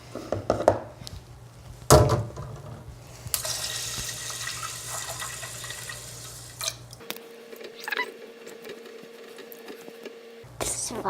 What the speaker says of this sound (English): we are going to wash the rice twice